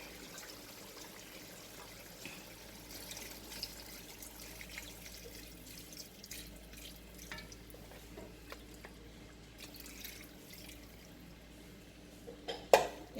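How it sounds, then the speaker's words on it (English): Water trickles and pours steadily into a metal pot of Jamaican-style curry chicken, a soft running splash with occasional clinks of cookware and a sharper clatter near the end. "I'm just gonna add some water right here."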